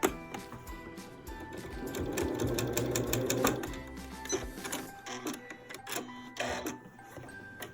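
A sewing machine stitches binding onto a quilt, its needle chattering in a fast, steady run that slows and stutters into short bursts toward the end, close and alone.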